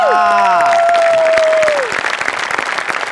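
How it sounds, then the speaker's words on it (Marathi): Audience applause on a Marathi comedy talk show, bursting in as a musical sting fades, then continuing as brisk, dense clapping with a few distinct claps near the microphone. "राहून टाळ्या वाजवल्या पाहिजे"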